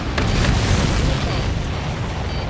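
Explosions boom in the Ace Combat 7 aerial combat game, a dense rumbling burst sustained and loud throughout the short stretch.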